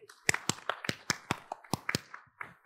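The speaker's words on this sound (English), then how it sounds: "Big applause and thank you." A few scattered hand claps at a corporate leadership panel, sparse and uneven, rather quiet and close, more like a handful of people than a full audience.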